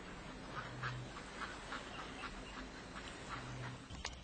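Ducks quack repeatedly in short bursts, fairly faint, over a quiet outdoor background with no talking.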